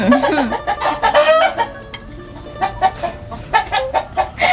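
Chickens cluck in quick, close bursts, and a rooster crows over them, loud and repeated throughout.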